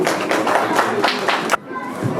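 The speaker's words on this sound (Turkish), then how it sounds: "Evet bir alkışlayalım." Children and adults clap together at a kindergarten report card ceremony, a dense, steady patter of hands close by for about a second and a half before it cuts off abruptly, leaving quieter room noise.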